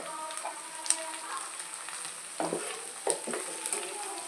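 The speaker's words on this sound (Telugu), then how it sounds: "వేసేసి బాగా కలుపుకొని ఇప్పుడు ఫ్రై అవ్వనివ్వాలి" Grated carrot and beetroot frying with onions in a pan, a steady rain-like sizzle with a few scraping stirs of a spoon, close and clear with no voices.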